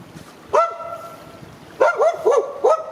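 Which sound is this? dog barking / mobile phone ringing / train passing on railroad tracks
dog barking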